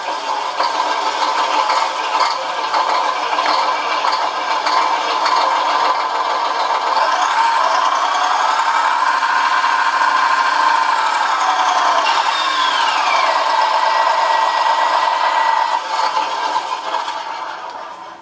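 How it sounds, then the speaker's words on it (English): Beier sound module playing a scale engine starting up, then running steadily with rising and falling tones as it shifts through gears, loud and electronic-sounding, ending abruptly. "So now our engine starts, and once it starts, you'll hear the shifting."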